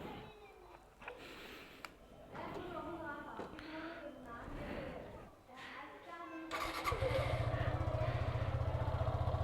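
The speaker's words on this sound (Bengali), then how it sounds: "তো আমাদের বাইকটা কোল্ড স্টার্ট দিই" A fuel-injected motorcycle cold-starts partway through and settles into a steady, loud idle close by, with a person talking over the earlier part before the engine catches.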